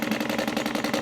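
A sewing machine stitching a handbag runs steadily, its rapid needle chatter forming a fast, even mechanical rhythm, close and fairly loud throughout the short stretch.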